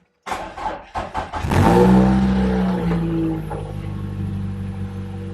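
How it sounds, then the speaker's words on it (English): A Toyota MR2 Spyder starter cranks in a few short, uneven bursts before the engine catches with a rising roar and settles into a steady, close idle. No one speaks. "Now if we start the car"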